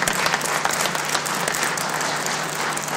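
Steady, dense applause from a crowd at a mayoral forum, loud and continuous throughout with no voices breaking through.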